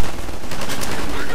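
Shotgun fire in the Half-Life 2 video game rings out as a loud, rapid burst of blasts packed tightly together over about a second, with no talk over it.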